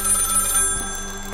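Old telephone ringing in the horror video game Maid of Sker, a steady bell tone sounding alone and close for the whole moment, over a faint ambient hum.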